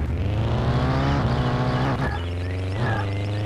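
A car in a video game drives with a loud, close engine drone that rises and falls through gear shifts and revs, continuous and without voices.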